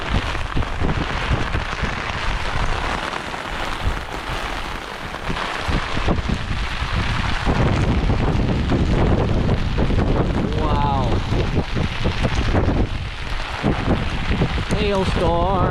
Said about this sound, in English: Oh, it's hailing like mad.